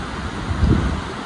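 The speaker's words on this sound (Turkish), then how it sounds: "Şu an çünkü inanılmaz bir rüzgar var." Strong wind gusting at about 32 km/h around the hilltop castle ruins near Adana, heard as a faint, rushing roar and low microphone buffeting with one brief stronger gust.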